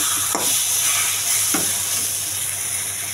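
Taro leaf greens sizzle steadily as they are stir-fried in a pan, with two brief scraping stirs cutting through a continuous close, bright frying hiss, no voices.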